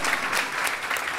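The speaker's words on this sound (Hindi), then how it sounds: "आपको ताली बजाना नहीं आता है?" A church congregation claps in dense, continuous applause, loud and close, with no pause across the whole short stretch.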